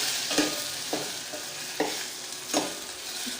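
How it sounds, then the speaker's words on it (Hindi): Vegetables with turmeric powder stirred in a hot pan, a spoon scraping through them in four distinct strokes about a second apart over a steady sizzle, close and clear with no voices. "और इसके बाद हम इसको अच्छे से चलाएंगे।"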